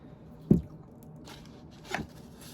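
Two knife cuts through an onion on a board while preparing tomato sauce: a sharp, close chop, then a second softer one about a second and a half later.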